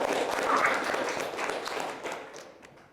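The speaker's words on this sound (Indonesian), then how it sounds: "Ya, tepuk tangan untuk temannya." A university class clapping for a fellow student, a short burst of applause that is fairly close and gradually thins and fades toward the end.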